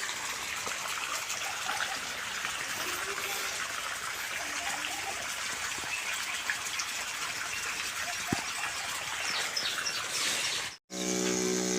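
Steady rush of water pouring from a pipe onto a farm field beside a brinjal planting, continuous and fairly loud up close, cut briefly near the end.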